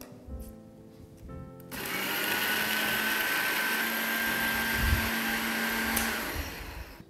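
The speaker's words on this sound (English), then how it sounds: "after blending the yogurt and fried onions together, it is ready to be cooked" Electric blender whirring as it purees yogurt with fried onions in a kitchen, starting up abruptly after a short pause and running in a steady loud hum for several seconds.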